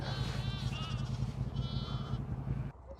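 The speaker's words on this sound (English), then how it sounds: "Ewes getting a wee feed, lambs getting all mixed up" Sheep bleat repeatedly on a Scottish farm during lambing, ewes and lambs calling over one another in a steady, loud chorus with a low engine hum underneath.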